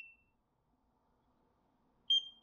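A skin care device pressed against the skin gives two faint, short high beeps, one at the start and a slightly louder one after a quiet pause of about two seconds.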